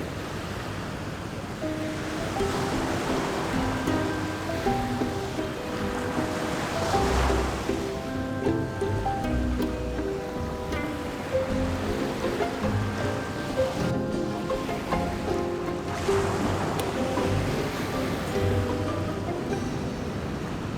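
Sea waves wash onto a hidden beach tucked between hills on the Konkan coast, a continuous surf roar with broad swells breaking every few seconds, some wind noise and no voices.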